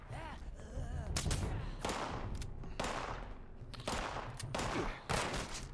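Gunfire in Fallout 76, a series of sharp, loud shots in quick bursts with reverberant tails, several separate volleys across a few seconds, with someone talking between them.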